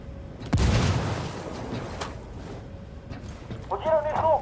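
A frag grenade goes off in the Ghost Recon Wildlands video game, a single loud, near boom with a short rumbling tail. Game sounds continue afterward, and a voice speaks briefly near the end.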